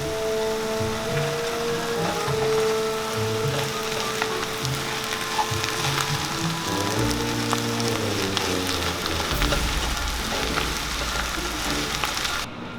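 Steady crackling sizzle of food frying in a pan, continuous and moderately loud, with faint clinks and a low background hum.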